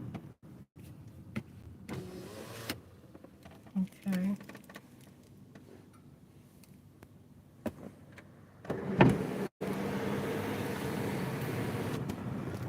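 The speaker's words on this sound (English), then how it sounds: "I got this sunroof open." Electric sunroof in a truck camper whirring open with a brief motor hum inside the cab, amid intermittent talking and small interior clicks.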